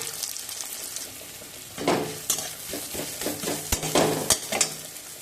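Chopped onion with a pinch of salt frying in a pan, giving a steady close sizzle. Bursts of stirring and scraping grow busier after two seconds, with sharp utensil clinks near the end.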